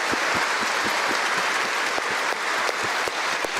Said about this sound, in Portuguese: Un aplauso quizás para decir bienvenido a casa.